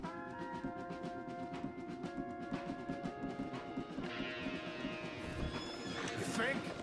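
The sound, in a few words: horses neighing in Red Dead Redemption 2 video game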